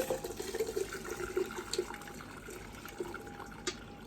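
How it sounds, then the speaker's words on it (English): Cooking liquid is poured off simmered mixed vegetables, a close, continuous watery gush with small splashes and gurgles throughout. "so I'm going to drain the vegetables off,"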